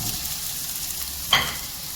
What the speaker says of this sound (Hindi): जब तक मैं इसे इसमें फ्राई करती रहूँगी।